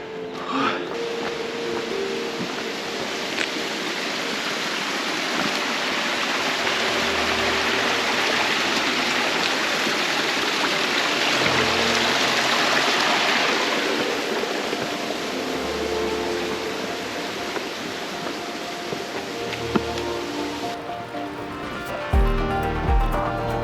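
Water rushes and splashes steadily over rocks in a stream crossing on a Lake District fell hike near Wetherlam, a continuous broadband flow that swells in the middle before other noises break in near the end.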